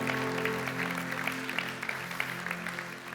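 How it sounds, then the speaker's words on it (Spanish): A church congregation applauds loudly and continuously, dense clapping filling the room with steady intensity throughout. "Puedes darle un fuerte aplauso a Él."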